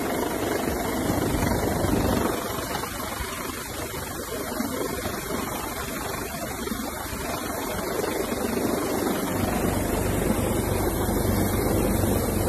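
A helicopter hovers low over a moving boat at sea, a steady broadband rotor and engine roar with wind and water noise filling the whole stretch, loud and continuous without any talk.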